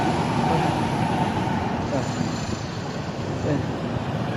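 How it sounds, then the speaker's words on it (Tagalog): An MRT train passes along EDSA amid heavy road traffic, giving a steady loud rumble with no clear break, while a voice talks over it. "Ayun, MRT oh."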